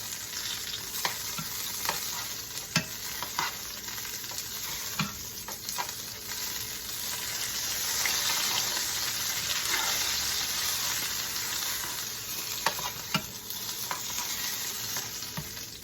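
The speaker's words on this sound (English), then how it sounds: "And I'm going to saute it in that style as well." Meatballs seasoned with garlic powder and pepper sizzle steadily in a frying pan, with occasional scrapes and taps as they are stirred, close and without speech.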